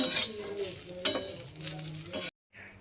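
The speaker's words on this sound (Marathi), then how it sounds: "कांदा पण चांगला भाजतोय आणि खोबरं पण भाजते त्याच्यामध्ये एकत्रच मस्त." Onion and coconut roasting together in a pan for a chicken rassa, with a steady close sizzle, scraping stir strokes and a sharp utensil knock before the sound cuts out.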